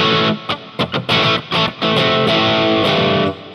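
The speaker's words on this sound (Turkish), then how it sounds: "Spring Verb verince de birazcık böyle tweet sound'unu yakaladık farkındaysanız." An electric guitar plays through the spring reverb of a Joyo DC-15S rechargeable amp, with choppy distorted chord stabs settling into a longer ringing strum, loud and close, with no voices.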